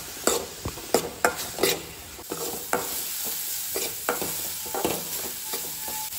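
Onion fries in oil in a pan for a Goan wild mushroom tonak while a spoon stirs it, sharp scraping strokes recurring in an irregular rhythm over a soft, steady sizzle.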